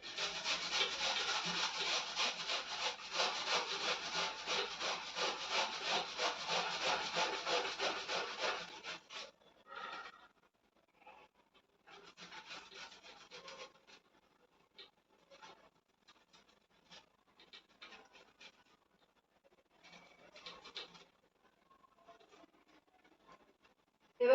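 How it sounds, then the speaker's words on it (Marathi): Potatoes grated by hand on a grater, a steady rapid rasping rhythm for about nine seconds, close and clear, then sparse scattered scrapes and light handling noises. "आता मी बटाटा किसायला घेते"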